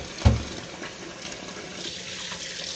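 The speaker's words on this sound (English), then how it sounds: "We're going to peel these under cool running water" Cool water runs steadily from a kitchen tap while hard-boiled eggs are peeled under it, a soft continuous splashing with a brief louder splash near the start and no talk.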